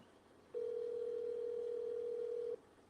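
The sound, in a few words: phone call ringing, unanswered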